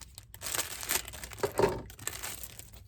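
Plastic wig packaging being cut open, giving a crinkling, rustling run of short crackles and snips close to the microphone, moderately quiet and without talk.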